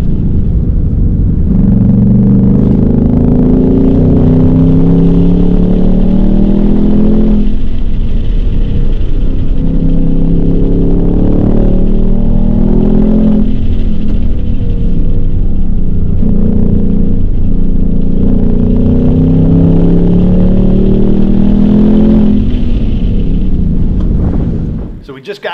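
A Ford Mustang Dark Horse on Pirelli tires drives hard on a track, its engine roaring loud and close with repeated rising revs through the gears, the pitch climbing and dropping in several sweeps before cutting off at the end.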